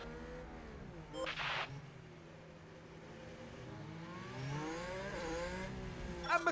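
Race cars overtaking around the Monaco street circuit in F1 Manager 2022, engines whining and rising in pitch as they rev, with a short burst of tire or gravel noise and a faint voice beneath.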